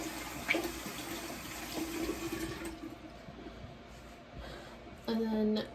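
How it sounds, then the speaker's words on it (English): Water running from a bathroom tap while washing hands, a faint hiss and splashing at close range, softer in the middle, then a louder burst of flow near the end. "Then I will just wash my hands off real quick."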